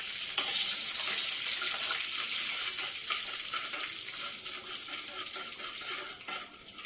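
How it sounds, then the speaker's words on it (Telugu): Mustard seeds, with a little cumin and two dried red chillies, splutter in hot oil for a gongura chicken curry tempering: a dense, close crackling sizzle with scattered sharp pops that eases slightly toward the end, with no talk. "ఆవాలు చిట్టపట్టమన్నాయి, ఉల్లిపాయలు వేసేసుకుందాం."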